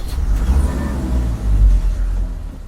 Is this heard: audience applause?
no